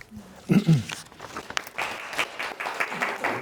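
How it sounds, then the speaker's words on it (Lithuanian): Audience applause for the poet Jonas after a poetry reading, a scattered burst of clapping that swells into steady broadband patter, with a brief voice near the start. "Čia buvo plojimai Joninui."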